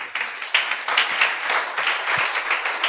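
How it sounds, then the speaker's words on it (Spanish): A church congregation breaks into applause during a sermon, a sustained crowd of hands clapping with uneven bursts and a few sharper claps up front. "Bríndele un aplauso al Señor."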